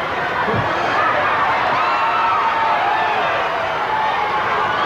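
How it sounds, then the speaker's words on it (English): Wrestling fans at a ringside match involving Terry Gordy and Kevin Von Erich roar and cheer, a loud, continuous crowd din with shouts rising out of it throughout. "The fans cheering"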